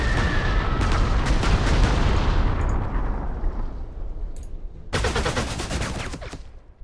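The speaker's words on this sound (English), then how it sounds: "Start by doing some extreme damage to this anti-aircraft gun" Heavy gunfire from an anti-aircraft gun in the Corps 2 WWII 1943 war game: loud rapid bursts with a booming tail that fades, then a second sharp volley near the end, with no talk.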